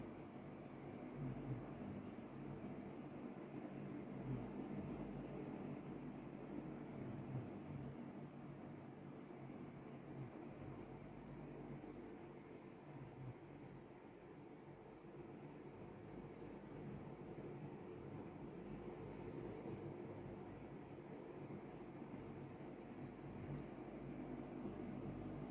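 A distant airplane passes overhead, a low, steady broadband rumble that holds for the whole stretch, faint and continuous with no other clear sounds.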